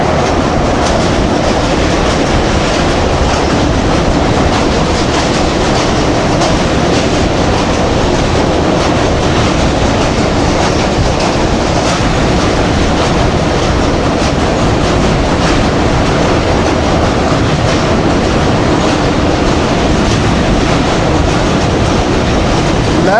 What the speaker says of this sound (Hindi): इस वक्त ट्रेन हमारी दरियाए झेलम के ऊपर से गुजर रही है और ये जो ब्रिज है इसका नाम है विक्टोरिया ब्रिज